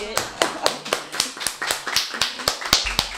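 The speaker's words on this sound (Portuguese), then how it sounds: "Uma salva de palmas para ele." Audience applause during a Brazilian architecture podcast recording, heard as a few hands clapping in slow, evenly spaced claps, close and distinct, with faint talk in the background.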